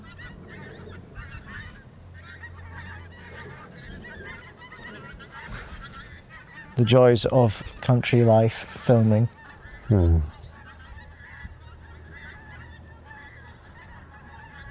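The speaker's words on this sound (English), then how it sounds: "there's gooses making noise." Geese honking in a rural countryside setting: a burst of loud, close honks comes in quick succession for about three seconds, then one last call, over a quiet outdoor background.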